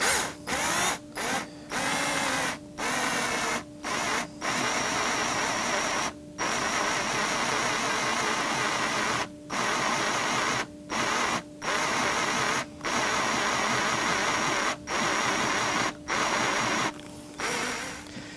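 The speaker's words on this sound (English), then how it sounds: "And then we're on to a step drill." A step drill boring into a wooden electric guitar body, a loud steady whining drone broken into repeated runs by short pauses, close and alone without talk.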